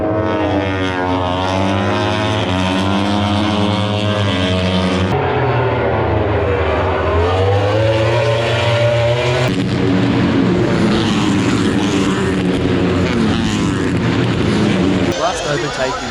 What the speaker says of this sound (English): Moto3 racing action.